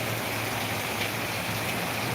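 Heavy rain pours down in Ahilyanagar as a dense, steady, hissing wash of water that stays loud and unbroken throughout, with no voices.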